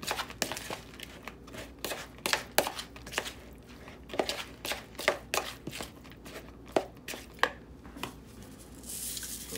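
Fishcake mixture being mixed by hand or spoon, a series of uneven soft squelching thuds and crinkly pats at close range, fairly quiet, with no speech.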